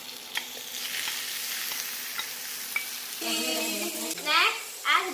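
Pork frying and being stirred in a pan for pancit, a steady close sizzle with occasional scraping clinks, joined late by a voice.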